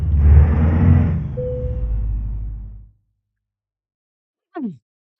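A classic Kenworth W900A truck rumbles loudly with a deep engine roar that eases off and fades over about three seconds, followed by silence and a brief squeak near the end.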